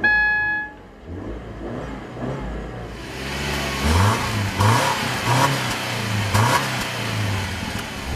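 A Subaru Impreza's boxer engine idles, then revs up as the car accelerates, its growl rising and falling through gear changes, heard close from inside.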